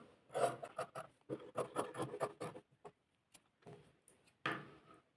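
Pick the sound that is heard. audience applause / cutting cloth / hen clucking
cutting cloth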